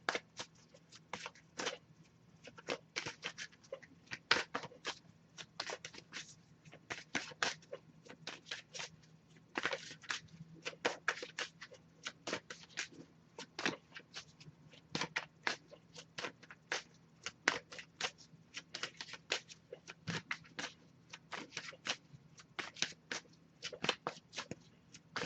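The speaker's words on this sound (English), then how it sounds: "I'll give it a few more shuffles" Tarot cards are shuffled by hand during a reading, a long run of quiet, rapid crisp riffles and taps that repeat in irregular bursts with no talking.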